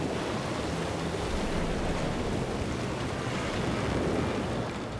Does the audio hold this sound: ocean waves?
yes